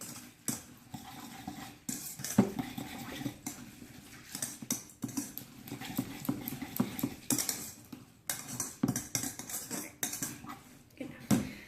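A spoon stirs oats and dairy in a bowl for overnight oats, with steady clinking and scraping against the sides, close up and fairly quiet, in irregular bursts with no talking.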